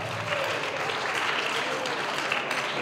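Audience applause in a middle school auditorium during a spring choir concert, a steady wash of clapping at moderate distance with a voice faintly underneath.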